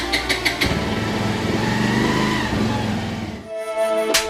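A motor vehicle's engine revs and pulls away, a steady mid-pitched drone building and shifting before cutting off abruptly, then returning briefly at the end; no talking.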